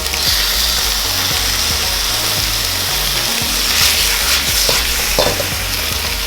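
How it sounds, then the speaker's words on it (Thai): Beef and bell peppers with oyster sauce sizzle loudly and continuously in a hot pan, with a metal utensil clanking and scraping against it as it is stirred. "ผัดกับน้ำมันหอยก่อน"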